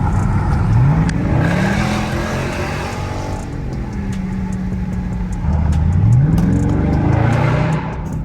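Car engines rev repeatedly nearby at a car meet outside a 7-Eleven in North Phoenix, pitch rising and falling in surges over a steady rumble of idling motors outdoors.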